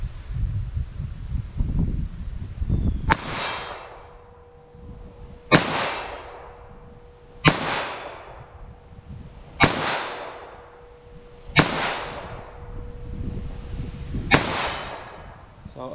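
A short-barrel .22 Magnum revolver fires six sharp, loud shots at steady intervals of about two seconds, each crack trailing into a decaying outdoor echo with a faint ringing tone between shots.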